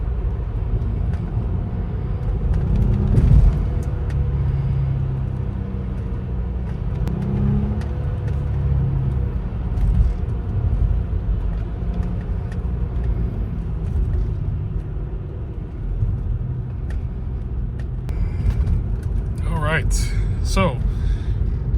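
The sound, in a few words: Audi car driving toward the highway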